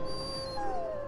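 A dog in Dragon Age: Origins lets out a single drawn-out, high whining whimper that bends downward, heard clearly over low background game ambience.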